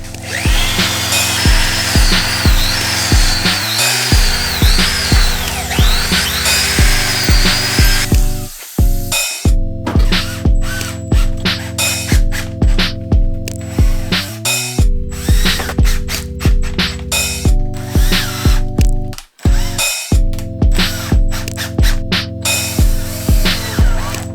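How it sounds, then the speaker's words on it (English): A power driver drives pocket screws into wood while building part of a miter saw stand, giving loud sustained whirring with rapid ratcheting clicks across several runs and brief pauses between screws. "So I'm going to use good old pocket screws to attach this guy to the back of this."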